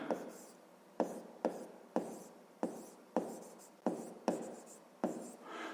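A pen scratches out numbers by hand on paper during a fifth-grade maths exercise, in short strokes with sharp taps every half second or so, close and steady, with no voices.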